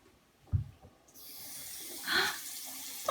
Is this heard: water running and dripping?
yes